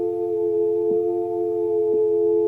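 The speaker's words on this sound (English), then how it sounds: "If I do a little pitch mod on this wheel," A steady analog synth pad holds a sustained tone, its pitch dipping and wavering slightly at two points from the pitch wheel for a gentle warble, with no voices.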